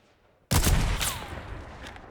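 Gunfire in the video game Fortnite: a sudden loud blast of rapid shots that breaks a near-silent moment, followed by a ringing, slowly fading tail.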